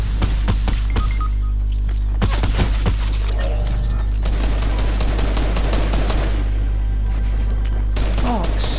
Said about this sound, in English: Getting shot at by somebody.